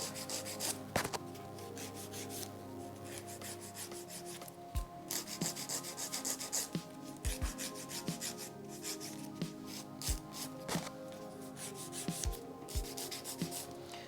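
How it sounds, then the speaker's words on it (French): A gel X nail capsule being filed with a nail file or emery board, steady close scraping strokes repeated in a rhythmic back-and-forth, with a few soft taps between passes. "Si vous avez de l'épaisseur, vous venez tout simplement passer votre emery ou votre lime pour désépaissir un petit peu."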